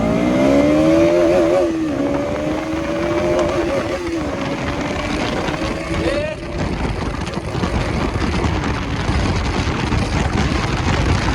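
A KTM Duke motorcycle engine revs up and climbs in pitch, then roars on loudly and continuously as the bike accelerates nearby.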